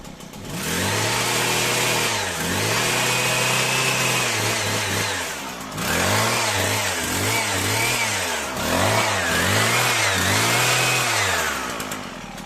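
A Husqvarna 122HD45 hedge trimmer's small two-stroke engine running after carburetor adjustment, close and loud, repeatedly revving up and dropping back to idle in uneven bursts.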